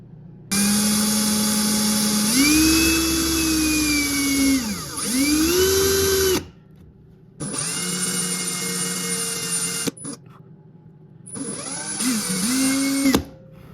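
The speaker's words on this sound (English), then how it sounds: "Now I gotta drill out these holes since they're all covered up right now" A power drill whines loudly in three bursts drilling out covered-up holes in a crankbait, its motor pitch rising and dipping under load, with short silent gaps between runs.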